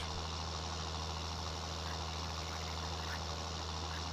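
A tractor engine in Farming Simulator 19 drones and strains in a steady low rumble, loud and continuous with a heavy hum and no break, while hauling up a slope on a Polish farm.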